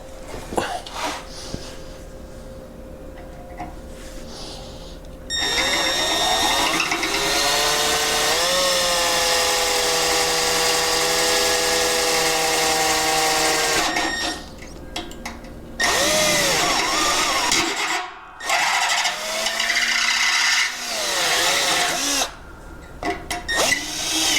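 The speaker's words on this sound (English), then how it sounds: "We're gonna have to drill those rivets out" A power drill with a 5/32 bit drills out rivets on a zero-turn lawn mower deck, whining loudly in several bursts, starting, bogging down and stopping, with short pauses between runs.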